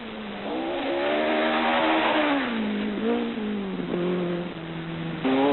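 Brown Mazda RX-7 rally car from a 1983 New South Wales rally, its engine note sliding down as it slows, then rising again as it accelerates away, loud and close throughout.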